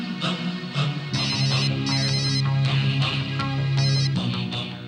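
A telephone rings with a bright electronic ringtone, repeated bursts of tones in a steady pattern, loud and close in an indoor scene from a 2003 Telugu film, with background music and no talk.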